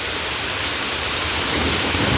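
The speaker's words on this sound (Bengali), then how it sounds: "ভয়ঙ্কর বৃষ্টি নেমেছে, এত জোর বৃষ্টি হচ্ছে সে বলার না।" Heavy rain pours down steadily in a dense, loud, continuous wash that holds for the whole stretch and swells slightly toward the end, with no voices.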